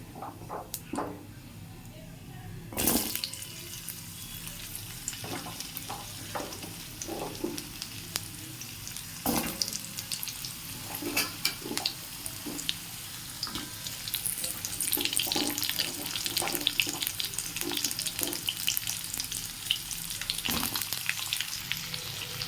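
Cut potatoes drop into hot oil tempered with whole cumin, bay leaf and dry chili, bursting into a loud sustained sizzle with clattering stirring and scattered knocks of utensils against the pan.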